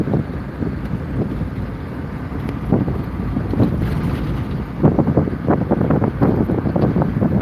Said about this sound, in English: That's the wind beneath Daisy's wings.